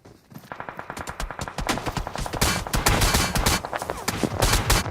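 Rapid automatic gunfire in a video game rattles in dense bursts, beginning sparse and then building into a loud, continuous volley of shots.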